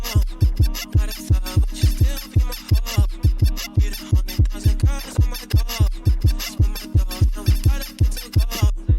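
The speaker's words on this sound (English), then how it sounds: "We've put a looperator onto the bed squeak, and it sounds like this." A reversed bed squeak sample runs through a looperator effect in FL Studio for a jersey club beat. It comes out as a loud, steady train of chopped, rising squeaky hits over a thumping low pulse, repeating about twice a second.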